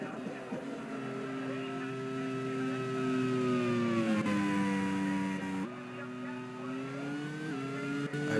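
A race car at the Phillip Island Grand Prix leaving the pits and building speed, its engine a sustained tonal whine rising and shifting pitch through gear changes, heard at moderate distance.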